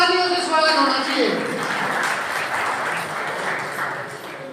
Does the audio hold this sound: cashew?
no